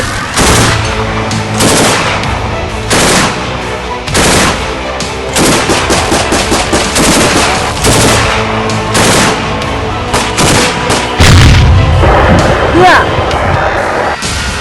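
Rapid bursts of heavy anti-aircraft gunfire aimed at a drone pound close and loud, repeated volleys with short pauses, echoing against a busy background.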